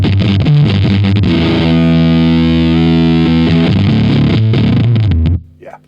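Electric guitar played through a Teaching Machines Fuzzbillion fuzz pedal, a thick, loud, sustained distorted chord ringing for several seconds before cutting off abruptly near the end.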